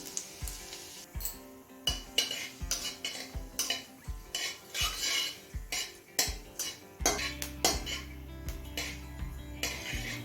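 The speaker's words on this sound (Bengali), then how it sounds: "তেল গরম হলে হাফ চামচ দিচ্ছি গোটা জিরে" Whole cumin seeds go into hot mustard oil in a pan for a chicken and taro-stolon dish, with a soft sizzle under repeated sharp metallic clinks and scrapes of a spoon against the pan, growing steadier in the last seconds.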